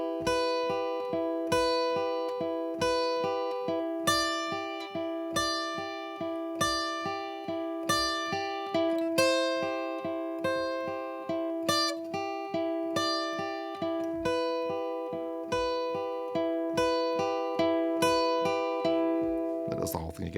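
Guitar plays the second guitar part of a song once through: clean, close picked notes in a steady repeating arpeggio pattern with ringing sustain, played alone without speech.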